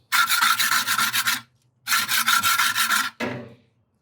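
Metal flavorizer bars from a gas grill, caked with grease, are scraped in three close, harsh rasping strokes, two long and one short, with brief silent pauses between them.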